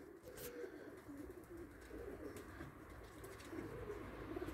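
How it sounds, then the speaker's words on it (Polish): Budapest breed pigeons cooing in a loft, a steady low murmur of overlapping coos from several birds close by, continuous throughout with no talking. "Zgoniliśmy trzeci gołębik, same Budapeszty."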